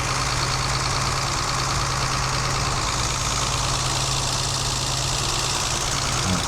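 A Mercedes-Benz W116 280 SEL engine with worn engine mounts idles steadily with a low, rumbling hum and a faint mechanical knock, running unbroken throughout.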